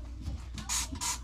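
A handheld spray bottle gives two clear bursts of fine hissing mist, close and fairly loud, over faint low background noise.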